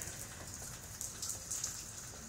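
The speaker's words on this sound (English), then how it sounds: "It's been raining like since noon." Steady rain falls on a Florida evening, a constant soft patter and hiss of drops on surfaces heard from a porch, fairly quiet and continuous with no voices.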